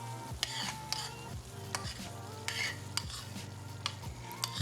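Shrimp sizzling in a pan while a utensil stirs and scrapes in repeated strokes, the sizzle holding under a hum and regular clicks.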